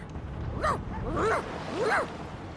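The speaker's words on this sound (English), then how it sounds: "The dog whines and continues pawing at its nose." A dog in Divinity: Original Sin 2 whines in three rising and falling whimpers, close and moderately loud, over a low ambient background.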